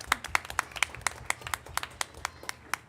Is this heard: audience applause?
yes